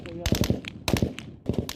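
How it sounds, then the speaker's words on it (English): Steady gunfire close by in a war zone where ambulances come under attack, with bursts of sharp cracking shots in clusters separated by brief gaps, heard under a voice talking. "Steady gunfire."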